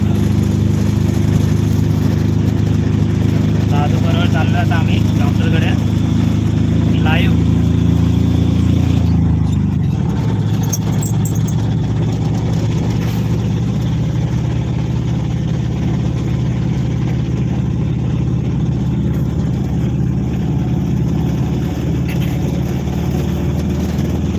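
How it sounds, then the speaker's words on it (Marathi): A car engine runs close by as a loud, steady low drone that drops slightly in pitch partway through and then keeps running evenly, with no talk. "तेवढा तेवढाच आवाज येणार गाडीचा"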